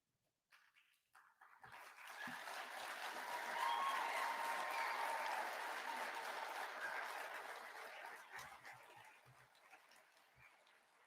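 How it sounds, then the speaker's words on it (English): An audience applauds a graduating police academy class at the Kansas Law Enforcement Training Center, sustained clapping swelling over a couple of seconds, holding steady, then tapering off, heard somewhat distant and soft. "Then you can give the applause."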